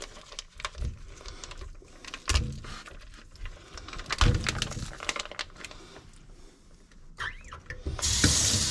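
Tough plastic packaging around a corned beef being wrestled open up close, a continuous crinkling and crackling with sharper tearing bursts, ending in a louder rip.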